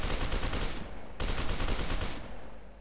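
Dense, continuous automatic gunfire, loud and close, with one brief gap before the rapid shots resume and fade slightly at the end, in the video game F.E.A.R. 2.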